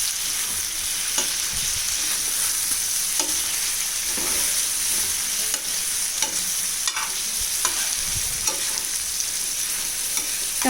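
Street-style chicken tikka masala sizzles uncovered on a tawa, its yogurt gravy cooked down and starting to stick. A loud, steady frying hiss carries a spatula's scrapes and taps throughout.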